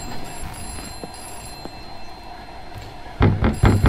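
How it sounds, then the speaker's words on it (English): A telephone ringing in a horror video game, heard as faint repeated rings under steady background hum, followed by a louder burst of bright ringing near the end. "We got another phone that's ringing now"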